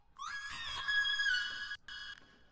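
A vocal chop with its formant pushed all the way up, a thin, whistly sung tone that glides up into a sustained note, breaks off briefly, then returns for a shorter held tail.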